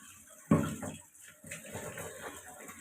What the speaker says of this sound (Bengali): এই যে সবজি সে ধুয়ে ফেলছে